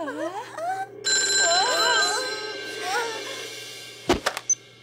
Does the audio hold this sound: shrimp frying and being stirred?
no